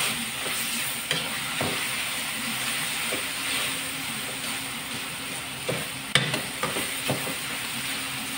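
Tomatoes sauté in a pan for a gisadong upo sauce, a steady loud sizzle broken by scattered scrapes and knocks as a utensil stirs them.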